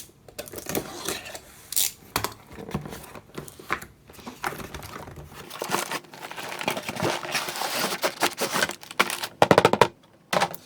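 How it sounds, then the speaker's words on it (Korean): A LEGO McLaren Senna set box being opened: close, irregular crinkling, tearing and tapping of cardboard and packaging, busy and bursty throughout with no speech. "그럼 박스를 바로 언박싱 해보도록 할게요."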